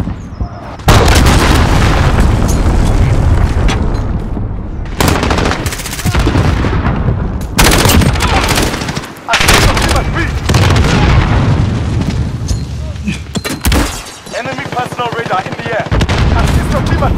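Missile explosions and heavy gunfire in Call of Duty Modern Warfare on the Talsik Backlot map, dense loud bursts of booms and rapid automatic fire in repeated waves, with voices speaking under the din.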